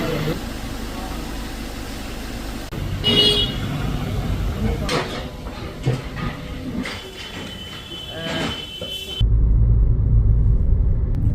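A Maruti Suzuki Brezza diesel out on a road test after alignment and wheel balancing, its engine and road rumble steady throughout and swelling louder near the end, with people talking over it.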